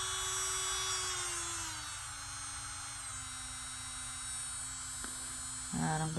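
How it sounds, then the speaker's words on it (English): A MelodySusie rechargeable 30000 RPM nail drill runs steadily with a thin, even motor whine that slowly drops in pitch, close by and alone, ending in a brief click and shift. "You can feel the air coming out to keep the motor cool. Really nice. Very low vibration."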